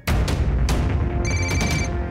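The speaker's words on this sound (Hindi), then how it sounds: "ये सैनी क्यों मुझे फोन कर रहा है?" A telephone rings with an incoming call in a Hindi TV drama scene, a loud electronic ringtone with repeating tonal bursts that fills the short clip, with no talking over it.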